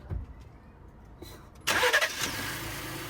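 Ford F-150 pickup (2017–2025 model) engine cranking over and catching, a sudden loud start about halfway through that settles into a steady close idle with no talking.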